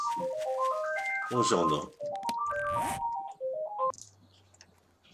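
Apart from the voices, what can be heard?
telephone ringing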